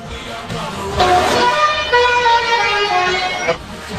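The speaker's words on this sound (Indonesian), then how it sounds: "terdengar jelas suara klakson telolet dari mobil sejenis Oplet" A telolet musical horn on an Oplet minibus plays a melodic sequence of tones, loud and near, over road noise and a slightly rough, old-recording hiss, Jakarta around 1971.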